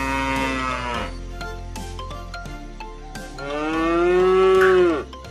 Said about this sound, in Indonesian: Sapi. Ya, betul. Sapi.